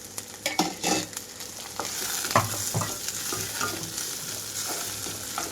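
Pieces of cluster beans sizzle in fried masala paste in a pan, with a steady crackling fry and repeated scraping strokes of a spoon stirring through it, close and moderately loud, no voices.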